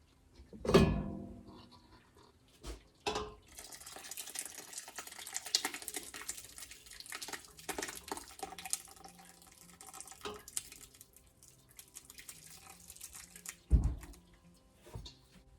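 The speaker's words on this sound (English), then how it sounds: "you stop for a moment and lift the corners. Let it drain a little bit." Liquid whey trickles and drips from farmers cheese held in a lifted cheesecloth, a faint, steady watery patter close by with a few louder splashes and knocks.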